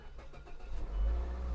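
A car engine cranking and catching, a brief starter whir that turns into a steady, rumbling idle close by.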